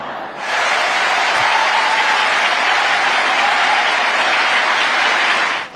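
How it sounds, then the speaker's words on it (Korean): A congregation at an Easter church service breaks into loud, steady applause, a broad wash of many hands clapping that begins abruptly and continues evenly before cutting off. "박수하세요"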